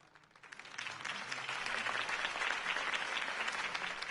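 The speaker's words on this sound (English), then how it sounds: "If only Mr. Wayne, my campaign's largest backer, could have heard that applause" A crowd in the video game Batman: The Telltale Series breaks into applause after a campaign speech, building quickly into steady, dense clapping that holds at a moderate distance.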